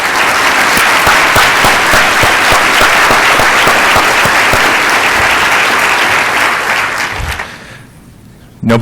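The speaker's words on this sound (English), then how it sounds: "if you were a mentor for one of the travel grant winners, please stand up, and you get a round of applause too" A conference audience in a hotel ballroom breaks into loud, dense applause for travel grant mentors, a sustained wash of many clapping hands that holds steady for several seconds before dropping away abruptly near the end.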